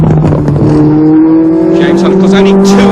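The red and white Marlboro McLaren M23 Formula 1 car of James Hunt, four years old and built near London Heathrow, runs loud and steady at the 1976 Japanese Grand Prix, its engine pitch rising slowly while a commentator talks over it.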